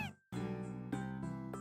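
A cat in the Harvest Moon game Tale of Two Towns lets out a short series of close, clear meows, about three or four quick calls in a row.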